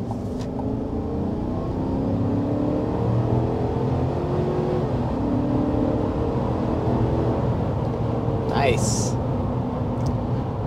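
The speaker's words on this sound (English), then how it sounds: "there we are, accelerating to a little over 60 miles per hour" A 2023 Chevy Silverado 1500 Trail Boss with a 5.3-liter V8 accelerates toward highway speed, a steady, loud engine drone with rising road rumble throughout, and a person briefly speaks near the end.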